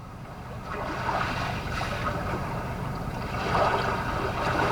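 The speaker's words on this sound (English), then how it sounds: "Calm sea waves." Calm sea waves played through the in-car sound system of a 2021 Kia K5 sedan, a steady soft wash of surf with gentle swells, continuous and moderately loud with no talking.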